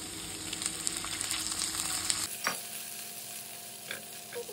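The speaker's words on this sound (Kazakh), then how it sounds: "Пиязды орташа отта қызарғанша қуырып алдым. Енді жаңағы етімізді қосамыз" Meat goes into hot oil with frying garlic and onions for Uyghur lagman, giving a busy, close sizzle with stirring scrapes that shifts and softens partway through, then continues more quietly with occasional clicks.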